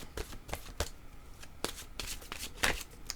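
Oracle cards being shuffled by hand, a run of quick papery riffles and slaps in close, steady bursts with no talking.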